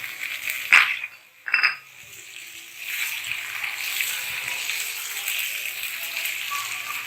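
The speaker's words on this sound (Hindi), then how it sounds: "अब हमें तेज आंच पर इसको इतनी देर भूनना है कि ये टमाटर बिल्कुल गल जाए और ये बोटियां भी अच्छे से गल।" Chicken pieces and tomatoes frying over high heat in a pan, a steady close sizzle with brief clinks of a utensil against the pan early on, no talking.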